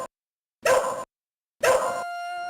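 Two sharp dog barks in the Shadow Dancer video game, evenly spaced about a second apart and loud against silence, the second trailing into a brief ringing electronic tone.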